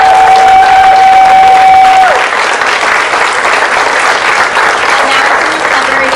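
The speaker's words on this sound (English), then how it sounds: "give everyone who spoke a round of applause" A crowd at a Rhode Island rally against the Wyatt Detention Center breaks into loud, dense applause for the speakers, with some cheering mixed in. A sustained tone is audible at first, then the applause fills the remaining seconds evenly.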